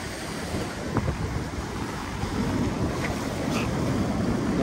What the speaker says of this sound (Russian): Хорошие волны идут.